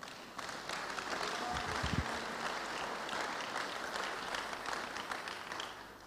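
A church congregation breaks into sustained applause that fills the space evenly and steadily for several seconds, dense and moderately loud with no voices standing out.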